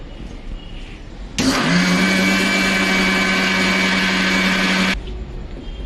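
A mixer grinder whirs loudly for about three and a half seconds, grinding semolina into fine powder, with an abrupt start and stop and quiet before and after.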